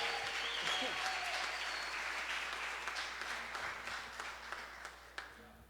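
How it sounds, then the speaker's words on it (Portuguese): Church congregation applauding during a service: broad, sustained clapping from a crowd, loud at first and gradually thinning toward the end, with a few scattered claps standing out. "Quem pode aplaudir bem forte o Senhor"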